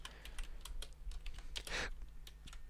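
HTML code is typed on a computer keyboard, a quiet run of rapid, irregular key clicks close to the mic, with one longer rustling press partway through.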